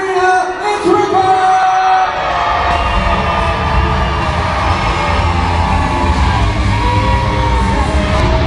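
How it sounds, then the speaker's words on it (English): A live arena crowd at a Robot Wars tour show in Barnsley roars, whoops and cheers loudly and continuously for the robot Ripper, with an announcer's amplified voice heard over the start. "give me the loudest cheer you know, please welcome into the arena, it's Ripper!"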